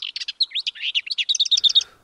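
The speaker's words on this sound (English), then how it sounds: "The lesser white-throat is a small migratory bird. It is characterized by its grayish-brown plumage, distinct white throat, and melodious song." A lesser whitethroat sings a quick, scratchy warbling phrase that settles into a fast, even run of repeated dry notes, loud and close with no other sound.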